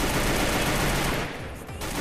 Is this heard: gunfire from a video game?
yes